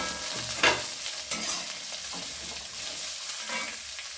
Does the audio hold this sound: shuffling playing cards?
no